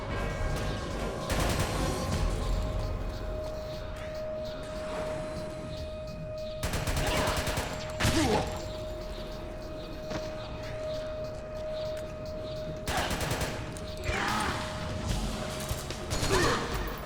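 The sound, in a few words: gunfire from a weapon in the video game Metal Gear Solid 4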